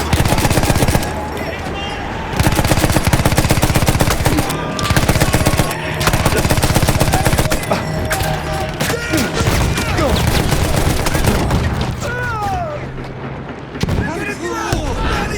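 Gunfire in the Battlefield 1 video game during an airship attack, dense sustained machine-gun bursts and rifle shots with explosions, loud and continuous, while in-game soldiers shout orders over the battle.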